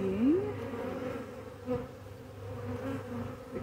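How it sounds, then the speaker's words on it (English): Honeybees swarm around a hive in a steady, close buzzing drone that carries on throughout, with no voices. "Look at all those bees."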